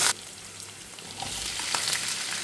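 Chopped ginger, garlic, green chilli and curry leaves hit hot oil with a steady, close sizzle and crackle that swells a little partway through. No voices, just continuous frying.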